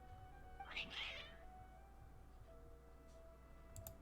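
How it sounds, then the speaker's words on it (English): Cats meow in Genshin Impact: a couple of short, bright mewing calls close together early on, over a quiet game backdrop, then fading into low ambience with a faint later chirp. "Your cats seem pretty worked up."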